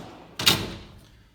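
A large 72 by 24 inch Montezuma tool box drawer on double heavy-duty slides shuts with a single solid thud, a short close impact with a brief tail that fades quickly.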